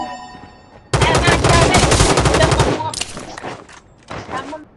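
Rapid machine gun fire in a first-person fireteam shooter video game, a loud sustained burst of close, fast shots lasting about two seconds, followed by a few scattered shorter bursts, with a voice talking around it.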